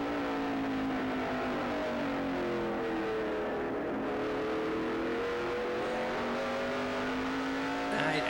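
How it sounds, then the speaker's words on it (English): A race car engine at Myrtle Beach Speedway during a 2000 USAR Hooters Pro Cup Series race, held loud and steady as it pulls off a corner, rising harmonic drone with slight pitch sweeps and a faint whoosh near the end. "Let's listen to the throttle, see how he comes off the corner"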